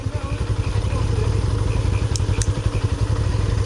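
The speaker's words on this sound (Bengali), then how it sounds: "ওই যে দেখেন সামনের বাইক আটকে পড়ছে, আমার বাইক আটকে পড়ছে।" Motorcycle engine laboring while stuck in mud, a steady close throbbing roar with rapid pulsing and a couple of brief clatters.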